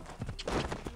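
In the video game Assassin's Creed Origins, a horse's hooves clip-clop in a quick run of soft hoofbeats on the ground, faint and brief.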